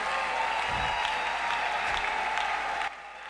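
Congregation at a church service applauding steadily, dense clapping and crowd noise throughout that cuts off abruptly near the end.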